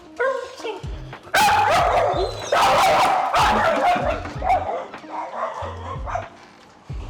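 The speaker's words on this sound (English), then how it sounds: "My dogs see a dog walking out back." Several dogs bark and yip excitedly in bursts at another dog walking outside behind the house, loud and close, with a few whimpers and a person briefly talking between barks.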